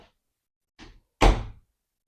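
A round Weiser interior door knob is turned and the door latches, giving a soft metallic rattle followed by one solid thunk up close in an otherwise quiet room.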